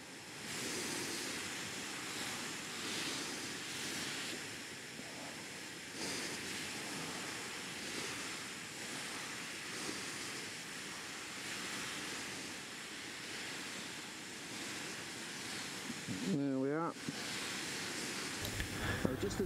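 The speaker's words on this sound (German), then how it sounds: "ich fange nun an, den Klarlack zu spritzen" Spray gun laying clear coat onto car paint over a dry basecoat film, a continuous broad airy hiss that runs nearly unbroken, with a brief break and a small clatter near the end.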